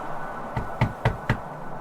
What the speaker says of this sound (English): We decided to go up there and knock on the door to see if anyone was home.